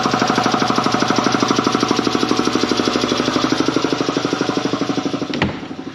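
A small motor on tractor equipment runs steadily after being tightened, with a fast, even, rapid knocking beat that stays loud and close throughout, then a sharp clunk near the end.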